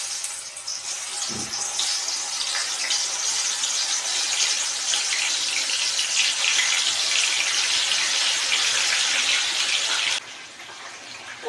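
Soaked meal maker soya chunks hiss loudly in hot oil, a steady bright sizzle running close and unbroken for most of the stretch before it drops off near the end.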